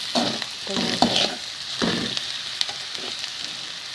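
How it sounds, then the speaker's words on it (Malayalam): Chicken pieces with pepper, chicken masala and salt are stirred in a pan, giving soft scraping strokes and light sizzling in irregular bursts, close and fairly quiet. "ചിക്കൻ മസാലയും ചേർത്ത് കൊടുക്കാം ആവശ്യത്തിന് ഉപ്പും ചേർത്ത് കൊടുക്കാം എന്നിട്ട് നല്ലോണം ഒന്ന് മിക്സാക്കി"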